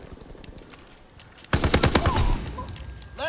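Rapid bursts of automatic gunfire in the World War II shooter Call of Duty WWII, starting abruptly after a quieter stretch and rattling loud and close in fast repeated shots.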